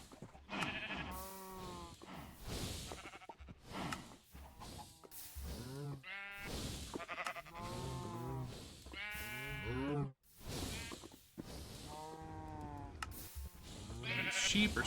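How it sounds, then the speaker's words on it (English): Sheep in the video game Minecraft bleat again and again, with overlapping calls close by throughout, steady and fairly quiet. "These sheep are staring at me."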